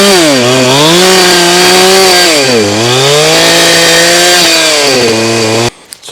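A mini tractor mulcher with carbide cutters runs loud and close, its engine droning steadily while the pitch dips and rises under load, then cuts off abruptly at the end.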